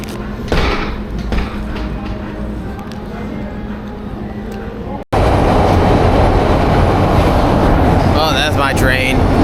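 A Chicago train arrives, with a steady rumble and rail clatter that suddenly becomes louder and denser halfway through, then squeals of brakes near the end, no talking.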